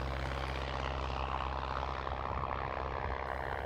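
A de Havilland DH.82 Tiger Moth biplane's piston engine drones steadily at takeoff power, a loud, continuous propeller roar with a buzzing, throbbing tone that holds constant throughout, no voices.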